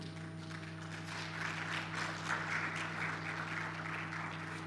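Audience applause at a low-cost airline presentation for a Jambojet chief executive, a steady broad wash of clapping from a crowd over a constant low electrical hum.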